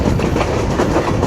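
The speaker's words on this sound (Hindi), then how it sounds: "ट्रेन हमारी पहुंच चुकी है सादो के रेलवे स्टेशन के यार्ड में" A passenger train rolls into a railway station yard in heavy rain, a loud close rumble with wheels clattering over the rails, no voices.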